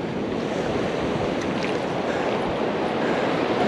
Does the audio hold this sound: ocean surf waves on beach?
yes